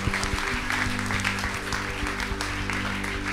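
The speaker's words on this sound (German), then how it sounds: "Applaus." Applause from a youth church livestream crowd fills the space, steady and dense from start to finish with music tones sustained beneath it.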